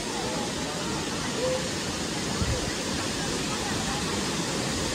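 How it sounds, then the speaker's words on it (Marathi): Nhavankond waterfall at Talavade, its water falling in a steady, dense roar that fills the whole clip without a break, close and loud. "वरून सर्व पाणी येणार आहे, ते इथून सरळ खाली जातं"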